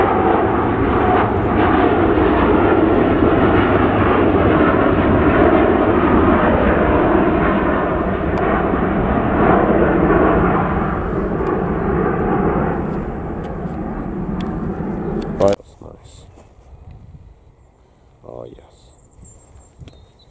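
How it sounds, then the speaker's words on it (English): A Cathay Pacific airliner taxiing at Manchester Airport gives off a loud, steady jet engine roar for about fifteen seconds, and then it cuts away to faint background sounds. "Cafe Pacific's taxiing out."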